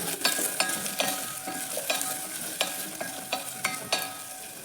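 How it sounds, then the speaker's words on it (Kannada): Onion and garlic fry in a pan, with a continuous close sizzle broken by regular sharp taps and scrapes of a spoon stirring, and no talk. "ಬೆಳ್ಳುಳ್ಳಿನೂ ಸಹ ಆ್ಯಡ್ ಮಾಡ್ಕೊಳ್ಳಿ ಇದ್ರ ಇವಾಗ ಎರಡನ್ನೂ ನೀಟಾಗಿ ಫ್ರೈ ಮಾಡ್ಕೊಳ್ಳಿ"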